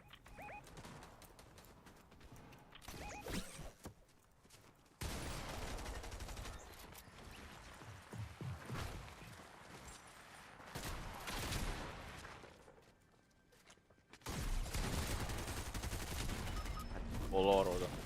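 Rapid full-auto gunfire bursts rattle in Fortnite amid game ambience, with bird calls and voices heard between the louder stretches of shooting.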